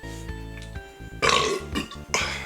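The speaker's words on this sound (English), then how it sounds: "Oh, that was a rough burp." A rough, gravelly burp rumbles out in a couple of loud, drawn-out bursts, close and unaccompanied by talk.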